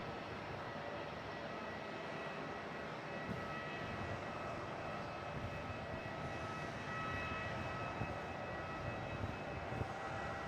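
A Qantas Boeing 737-800 on approach to Melbourne Airport at night produces a distant, faint, steady jet engine whine over a low rumble, with no talk.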